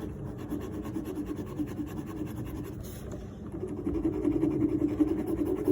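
Graphite from a Derwent precision mechanical pencil scratching and rubbing across paper in steady quick sketching strokes, close and soft, the scraping growing slightly denser and louder toward the end.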